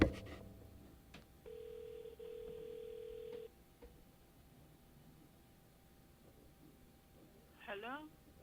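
A phone call ringing through an Mpow 059 Bluetooth headset, heard as a steady electronic ring tone of about two seconds at moderate level, followed by a short rising chirp, with quiet background.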